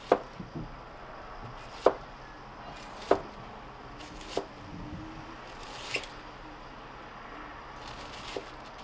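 Cabbage is sliced very thinly with a knife for sauerkraut, slowly, in sparse crisp chops spaced about a second or more apart, faint and close over a quiet room.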